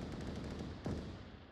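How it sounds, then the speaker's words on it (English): Gunfire in the VR shooter Onward during a competitive VRML match: a muffled, rolling patter of distant shots with one louder crack partway through, all fairly faint. "Gunshots coming out in Spartan's location."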